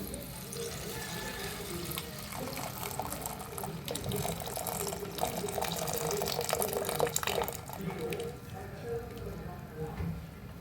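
Liquid poured steadily through a strainer to filter out grit, stones and dust while preparing syrup for Diwali puffed-rice balls: a continuous watery trickle and splash at moderate volume with no talk.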